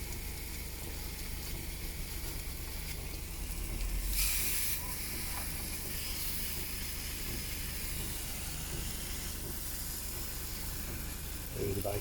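Four rashers of bacon sizzle in a Ridge Monkey multi-use pan, a steady close hiss and crackle running throughout with a brief louder spit partway through.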